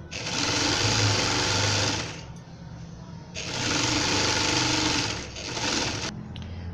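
Sewing machine stitching fabric for a baby frock, running in two long steady bursts with a short pause between and a brief third run at the end, close and loud with no talking.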